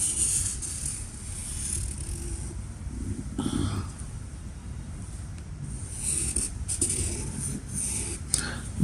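A pen or pencil drawing a circle on paper during a GCSE maths geometry problem produces soft scratchy strokes, close and quiet, over a low background rumble with no talk.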